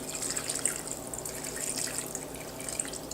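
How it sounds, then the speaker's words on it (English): Fresh lime juice, prepared with a little orange, is poured over sliced whitefish for ceviche, giving a close, steady trickle of liquid with small drips and splashes throughout. "Now we're going to pour them together."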